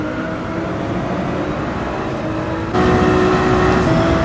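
A race car engine drones at Deep Forest Raceway in Gran Turismo 7, holding a steady high-pitched whine in third gear that steps up abruptly in loudness and pitch partway through, close and continuous, without any talking.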